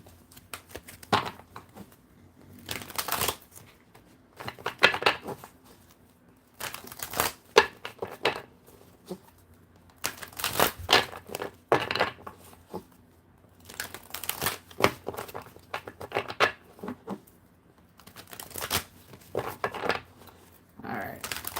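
Playing cards are shuffled repeatedly by hand, bursts of riffling and crinkly flicking in irregular rounds with pauses between, close and fairly loud.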